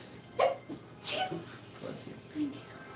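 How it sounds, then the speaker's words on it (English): A single sharp, close sneeze bursts out against a quiet room background, followed by faint breathy sounds and soft vocal noises. "I knew as soon as we opened that window, I was going to start sneezing."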